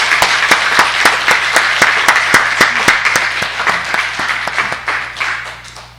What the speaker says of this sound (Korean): 차렷 인사 박수합니다